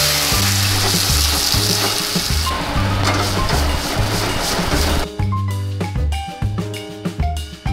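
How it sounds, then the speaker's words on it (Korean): Vegetable stock is ladled into a hot pan of oil, marjoram and garlic for a truffle pasta sauce, setting off a loud, close sizzle with stirring and the scrape and clink of utensils. "야채 육수를 한 국자 넣겠습니다."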